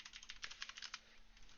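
Fingers type on a computer keyboard in a quick, uneven burst of light clicks, faint and close, trailing off into a few scattered taps with no talking.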